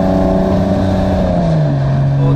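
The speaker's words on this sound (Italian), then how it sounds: "Da questa posizione sento molto il motore." A loud Porsche 911 engine growls with a throaty aftermarket exhaust note, its pitch sliding slightly lower as it settles, close and continuous.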